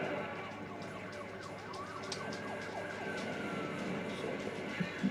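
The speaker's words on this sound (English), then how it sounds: "And here comes the ambulance." An ambulance siren wails in the video game The Darkness 2, a moderately distant rising and falling tone sweeping over a low hum of traffic and ambient noise.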